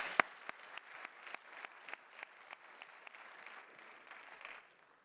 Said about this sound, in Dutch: Mag ik een applaus voor Arjen Stegeman?